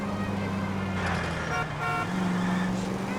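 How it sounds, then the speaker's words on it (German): Car horns honk in the driving game L.A. Noire, sustained tonal blasts over a constant engine and traffic roar, with a couple of breaks between honks. "Er wird schon gehupt"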